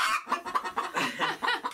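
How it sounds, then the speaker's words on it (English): Several chickens cluck close by in quick, uneven bursts, loud and continuous, with no talk over them. "If you can hear us above the chickens"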